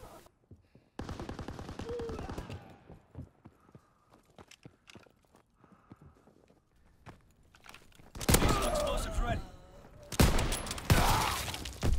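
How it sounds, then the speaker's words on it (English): Shotgun fire and gunfire in a World War II video game, starting with sharp shots and footsteps, then heavy, loud bursts of firing and explosions near the end. "Shotgun, of course."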